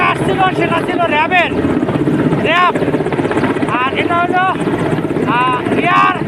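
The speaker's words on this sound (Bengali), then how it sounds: "এটা আরেকটি হেলিকপ্টার, এটা হলো এয়ারফোর্স" An air force rescue helicopter thuds steadily overhead during a flood rescue, its loud rotor chop and engine whine continuous while someone talks excitedly over it.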